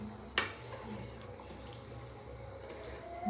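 Water poured into a kadhai while cooking at home, a steady rushing wash with a brief sharp splash near the start, continuing evenly under the room's background.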